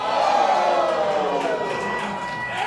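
A wrestling crowd in Granite City reacts to a bout, a dense wash of cheering and shouting voices that is loudest at the start and eases a little as it goes on.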